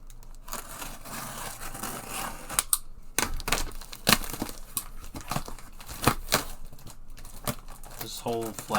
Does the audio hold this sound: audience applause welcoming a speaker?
no